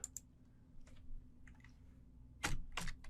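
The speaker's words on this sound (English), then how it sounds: "in the command field of ZenMap, we're going to type in nmap" A computer keyboard used on a Windows 11 machine to type an nmap command into ZenMap, heard as sparse, faint key clicks that end in a louder cluster of keystrokes near the end.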